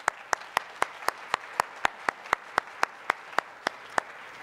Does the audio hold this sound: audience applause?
yes